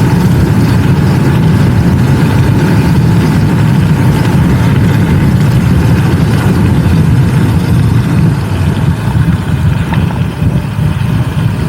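Vsett 10+ electric scooter ridden hard over potholed pavement, a loud, constant low rumble of wind and road noise filling the whole stretch, with no one talking.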